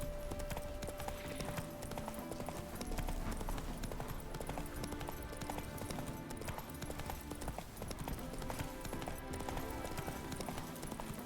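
Hooves of Roach, Geralt's horse in The Witcher 3, clip-clop steadily throughout in a galloping rhythm over a dense game soundscape with music, without a break.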